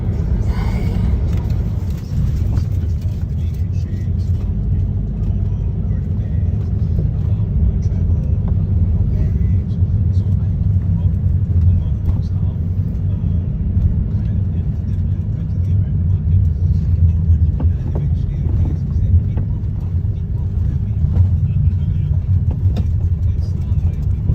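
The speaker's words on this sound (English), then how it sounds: "on the way in the taxi to our accommodation" A taxi driving away from Singapore's airport toward Sentosa Island, its engine and road noise forming a steady low rumble throughout, with a faint voice now and then beneath it.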